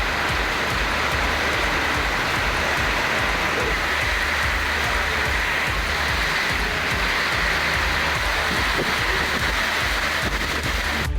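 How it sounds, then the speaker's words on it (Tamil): Heavy rain falls at night in Perambalur district, Tamil Nadu. It makes a dense, unbroken roaring hiss that stays loud and even throughout. "பெரம்பலூர் மாவட்டத்தில் பரவலாக நள்ளிரவிலும் பலத்த காற்றுடன் கனமழை கொட்டி தீர்த்தது"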